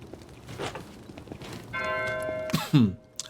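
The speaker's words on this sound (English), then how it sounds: "The bell do be ringing." A church bell in the game Pentiment rings with a few clear metallic tones near the end, following quiet ambient rustling and soft footsteps.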